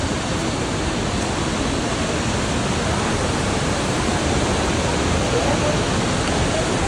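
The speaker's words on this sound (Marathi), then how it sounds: "ही बघा सरस्वती नदी ही आहे इकडनं निघते." Water of the Saraswati river gushes out at its source near Badrinath in a loud, unbroken rushing roar that fills the whole stretch, with no clear voices over it.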